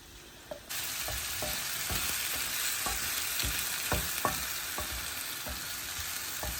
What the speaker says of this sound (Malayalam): ആ 4 പഴവും നന്നായിട്ട് വാട്ടാൻ വേണ്ടിയിട്ട് നമ്മളെ പോട്ടിലേക്ക് ഇട്ട് കൊടുക്കാം.